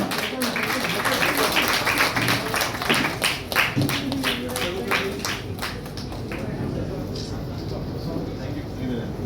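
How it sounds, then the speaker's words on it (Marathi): An audience at a Mumbai film trailer and music launch breaks into bursts of clapping, uneven claps rising and thinning over several seconds amid crowd murmur and voices. "आणि जोरदार टाळ्या होऊन जाऊ द्या."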